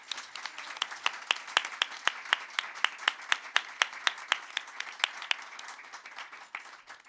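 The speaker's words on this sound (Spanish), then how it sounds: "Les pido que por favor nos regalen un aplauso para el querido Iram." A small audience at a book presentation claps for the author Iram, a thin, fairly sparse patter of distinct handclaps with a steady rhythm, close and moderately quiet, thinning toward the end.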